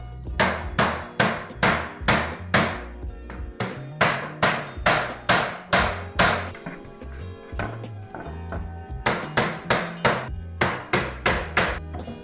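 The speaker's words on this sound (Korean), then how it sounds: "아 근데 망치 너무 시끄러워가지고." A hammer taps premium Aton aluminium shelving parts into place, delivering a long run of loud, sharp, evenly spaced strikes in quick bursts with brief pauses, close by and alone without talk.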